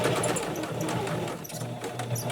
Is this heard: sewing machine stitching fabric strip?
yes